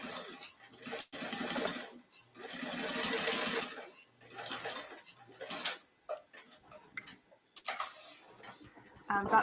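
A sewing machine stitches a second line of stitches along the exterior of a small fabric card holder bag, running in several close bursts separated by short pauses, with a voice talking between and over them.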